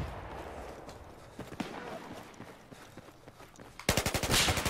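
Gunfire in the Battlefield 4 video game: scattered distant shots under game noise, then a loud burst of rapid automatic fire close by at the end.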